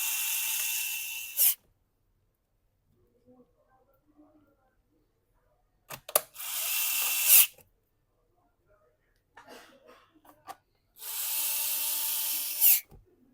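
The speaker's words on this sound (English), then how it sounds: "Then you replace all the screw back you take out." Small electric screwdriver driving screws back into a Dell Inspiron laptop case after a battery replacement, three close whirring bursts of about a second or two each, separated by quiet pauses with faint handling clicks.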